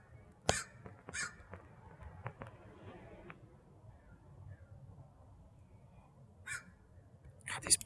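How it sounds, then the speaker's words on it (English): Scrub jay calls outdoors: a few sharp, harsh caws near the start, then more toward the end, over a low rumble of background noise. "The scrub jay just flew right by me."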